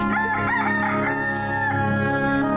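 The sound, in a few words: rooster crowing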